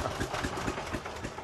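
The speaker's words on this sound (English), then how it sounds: "Turn the engine off, have it in neutral." A vintage Rolls-Royce engine idles nearby with a low, even rumble and a soft rhythmic pulsing, running alone with no voices.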